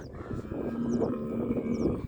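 An ox lowing among cattle, sheep and calves on a farm gives a single drawn-out moo lasting about two seconds, moderately close and fairly quiet, with faint outdoor background and no talking.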